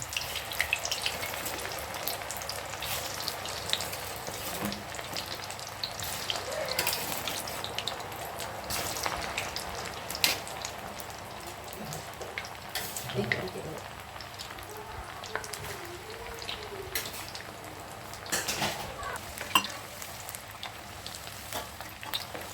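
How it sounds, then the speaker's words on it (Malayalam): Banana pieces dropped into hot oil for sharkara varatti fry with a steady, soft sizzle and bubbling that runs throughout, with a few brief spoken words over it. "അപ്പോൾ നമ്മുടെ എണ്ണ ചൂടായിട്ടുണ്ട് നമുക്ക് കാതിലേക്ക് ഇട്ട് കൊടുക്കാം കുറേശ്ശെ വേണം നമ്മളിട്ട് വറുത്തെടുക്കാൻ"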